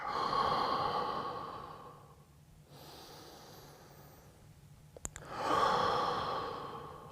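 Slow, deep breaths held through a power yoga stretch, a long audible exhale, a quiet pause and inhale, then another full exhale, close to the microphone with no talk.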